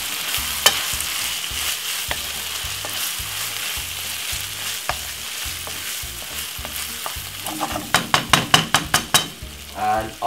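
Bolognese meat sauce with a bit of ketchup cooks in a pan on a low stove, giving a close, steady sizzle with stirring scrapes, and a run of sharp knocks and pops near the end.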